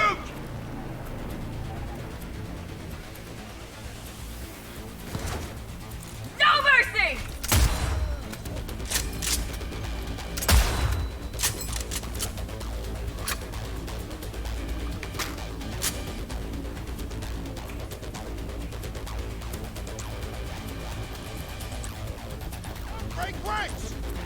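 Gunfire in Cyberpunk 2077: sharp cracking shots scattered irregularly through a loud combat scene, with a cluster of bursts around 6 to 11 seconds and more through the rest, over steady game ambience.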